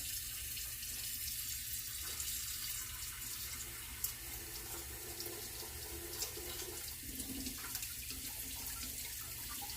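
A steady, faint rush of water pours from a tap without a break, with a few light clinks partway through.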